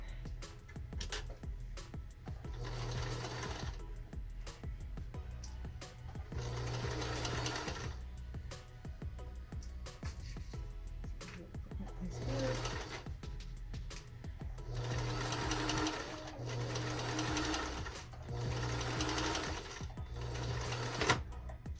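A sewing machine stitches a muslin collar over pins in bursts of rapid, steady whirring separated by brief pauses, close and loud with no talk.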